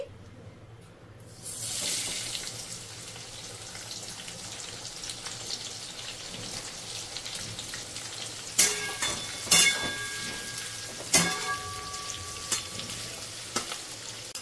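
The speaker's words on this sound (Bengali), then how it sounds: "আমরা এতে দিয়ে দেবো কুচনো পেঁয়াজ ভাজার জন্য" Steady sizzling of chopped onions frying in hot oil, with occasional sharper crackles and clinks of stirring, close and moderately quiet, no voices.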